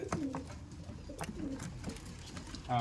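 A pigeon coos softly beside its nest of eggs, repeated low rolling coos at close range with a quiet background and a sudden louder burst at the end.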